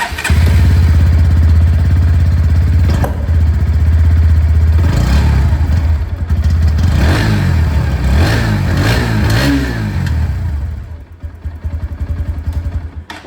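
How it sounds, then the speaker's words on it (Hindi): A Bajaj Pulsar NS 125 motorcycle engine idles loudly up close, blipped through several quick revs in the middle before settling back to a rough idle. "अब मैं आप लोगों को यहाँ पर पल्सर NS 125 की जो आवाज़ है ये भी सुना दो"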